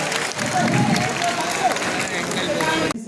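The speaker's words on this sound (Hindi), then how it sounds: "जोरदार तालियों के बीच हम स्वागत कर रहे हैं चांदनी विश्वकर्मा जी का" Loud applause from an award ceremony crowd in Bhopal greets an honoree called to the stage, a dense steady wash of clapping with cheering mixed in and a voice talking over it, cutting off near the end.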